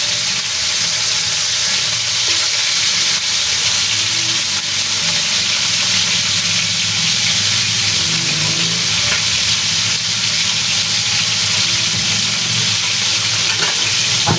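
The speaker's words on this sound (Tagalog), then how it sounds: "Mas masarap po kasi kung ipa-fry po muna natin yung ating chicken hanggang maging golden brown." Chicken pieces frying in a pan as they brown toward golden, giving a loud, steady sizzle with a constant hiss of spattering oil throughout, with no talking.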